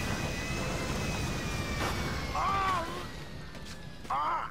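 An airplane flies in Grand Theft Auto V, a steady engine drone over wind rush with a couple of brief high whistles, while someone talks over it.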